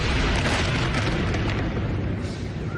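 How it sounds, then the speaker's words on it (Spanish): A missile strike and gunfire bring down a 15-story tower, a loud, continuous roaring rumble of blast and collapse noise that fills the whole stretch without distinct individual shots. "Misiles que debilitaron la estructura y luego una nueva secuencia de disparos para derribarlo."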